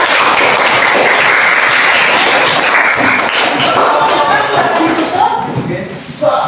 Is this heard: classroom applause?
yes